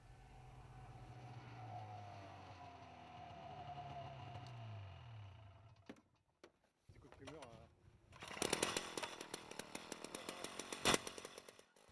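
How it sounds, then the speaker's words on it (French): A powered auger grinds down through Arctic sea ice in winter, starting with a steady motor drone and later a loud, rough, crunching drill noise after a short pause. "percer la banquise à l'aide d'une tarière"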